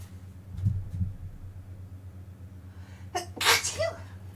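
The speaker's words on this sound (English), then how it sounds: "I gotta sneeze." A single sharp sneeze bursts out near the end after a quiet stretch with a low steady hum and a couple of soft thumps.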